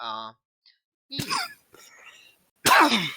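A sneeze bursts out amid short breathy vocal sounds, followed by a second loud sneeze near the end, close and sharp.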